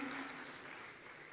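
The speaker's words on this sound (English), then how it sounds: "Another round of applause for the Sector Minister" Audience applause for a government minister at a regional consultative dialogue on small-scale mining, a steady dense clapping that stays fairly even throughout the short stretch without voices.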